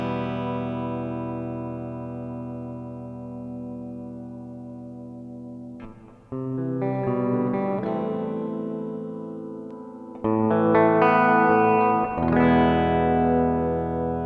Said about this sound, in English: I can add reverb to my sound.